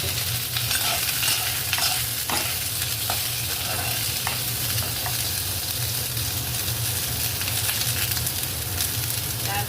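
Pointed gourd fries with spinach in a pan, giving a close, continuous sizzle broken by frequent scraping stirs and light clatter from the utensil.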